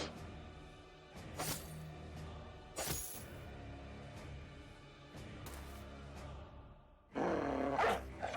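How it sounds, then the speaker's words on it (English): A war dog in the Battle Brothers video game barks and growls in short bursts amid sharp combat impacts and shattering hits, with a louder, busier flurry near the end. "War dog."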